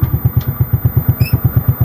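A new motorcycle's engine putters steadily nearby in a fast, even rhythm of firing pulses, with a brief high whine partway through and no talking.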